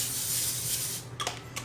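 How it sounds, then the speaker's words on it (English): A can of Pam coconut oil cooking spray hisses in one steady burst for about a second over a sheet for cauliflower wings, followed by a couple of faint clicks and light handling noises. "Give this a nice spray. A little bit of Pam coconut oil."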